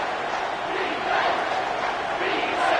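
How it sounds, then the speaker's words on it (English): Stadium crowd in a Madden football video game roars steadily on a third down, a dense, sustained wall of cheering with slight swells, heard without any words over it. "Third down, and this crowd is tearing the lid off this place."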